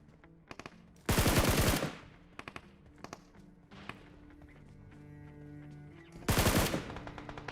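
Automatic UMP45 gunfire in the mobile battle game BGMI (PUBG Mobile): two long, loud bursts of rapid shots, the first after a few scattered single pops and the second near the end, over quieter game ambience.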